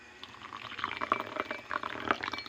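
Water is poured for a Mustika Dewa herbal drink, a short close splashing and gurgling stream with small bubbly bursts lasting a couple of seconds.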